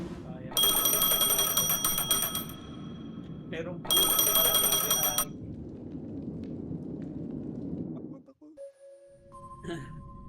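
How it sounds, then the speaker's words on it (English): A phone rings in the game Honkai Star Rail: two loud bursts of rapid electronic bell trilling, each lasting about two seconds, over a low ambient background, followed by quieter tones near the end. "A phone."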